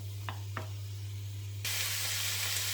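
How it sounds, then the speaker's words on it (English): Ingredients for a gluten-free vegan nut roast frying in a pan, with a steady soft sizzle and two faint clinks early on. The frying swells into a louder, brighter hiss partway through and holds there. "we're going to let this fry, just stirring occasionally"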